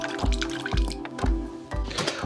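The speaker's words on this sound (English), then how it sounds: "I start by draining it into this colander and preserving the water" Cooked chickpeas and their cooking water poured into a colander in a kitchen, producing repeated splashing drips and gurgles with irregular pulses of falling liquid.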